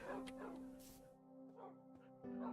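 A pet dog in a Minecraft game makes short yips and whimpers under background music, with faint rain and a person speaking nearby.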